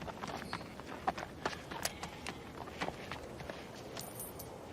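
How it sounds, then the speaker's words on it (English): A horse's hooves clop faintly and unevenly as it is led into a barn, soft irregular steps amid quiet background noise. "take the horse in the barn now, will you?"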